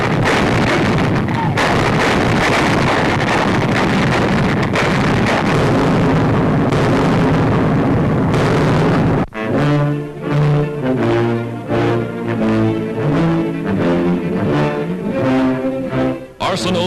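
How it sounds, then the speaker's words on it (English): Anti-aircraft guns of a 1942 newsreel crew fire in dense, booming bursts, with loud continuous blasts under narration-style audio and then rhythmic, repeated reports mixed with a steady tonal band in the second half. "Manning anti-aircraft batteries, they feed shells and fire them with clockwork precision."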